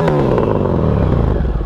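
A motorcycle exhaust revs loud and close, a deep throaty roar with rattling, rising and settling over a couple of seconds.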